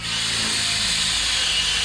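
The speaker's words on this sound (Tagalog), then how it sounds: "Galing po yung mini chainsaw na yan ha." A mini chainsaw cuts through wood in a workshop, a loud, steady high-pitched motor whine that runs unbroken throughout.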